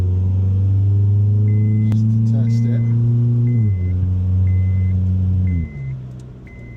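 A Toyota 4Runner accelerates along a straight road, its engine drone loud and steady before stepping down in pitch twice as it shifts gears, with someone talking briefly over it.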